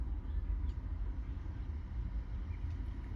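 An electric car passes on a San Diego street, a low, fairly quiet whirring hum that holds steady without engine firing, heard alone.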